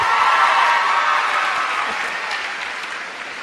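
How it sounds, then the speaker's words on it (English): A room full of listeners at a talk claps enthusiastically, a loud dense wash of applause that gradually tapers off toward the end with no voices heard. "And give them another round of applause."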